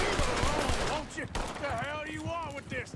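Gunfire from the Red Dead Redemption 2 video game sounds in quick, scattered shots under nearly continuous talking and shouting from a player.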